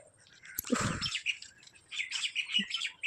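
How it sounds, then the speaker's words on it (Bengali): Birds chirp and tweet close by in quick, bright bursts, with a few short calls overlapping briefly and no talking. "দেখতে পাচ্ছ পাখিগুলো আওয়াজ করছে"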